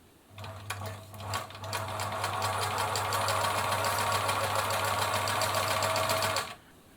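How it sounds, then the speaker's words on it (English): A Singer 700 Series sewing machine chain stitches a pillowcase in a steady, fast mechanical whir that runs for about six seconds, with a faint low hum underneath and no talking. "that's all set for chain stitching. Nice big piece of pillowcase here."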